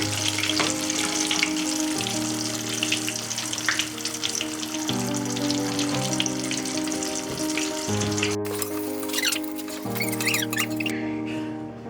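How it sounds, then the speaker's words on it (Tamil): Chicken strips deep-fry in hot oil with a steady, dense sizzle and crackle that runs the whole time. A low, repeating musical backing plays alongside it. "இப்போ வந்து நல்லா பொரிஞ்சிடுச்சு"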